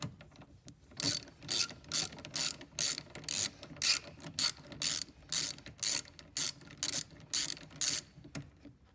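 A ratchet loosens a bolt on the brake reservoir of a Ford Escape. About fifteen evenly spaced clicking bursts come in a steady back-and-forth rhythm, close and clear with no talking.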